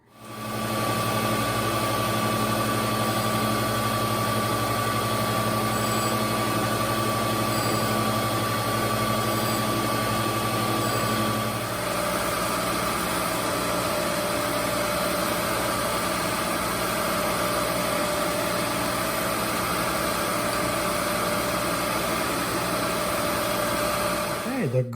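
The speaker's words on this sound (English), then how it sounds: "The grinding is done" A surface grinder works a steel vise in a machine shop, a steady loud mechanical drone with strong tonal hum running continuously, its pitch and texture shifting partway through as the pass changes.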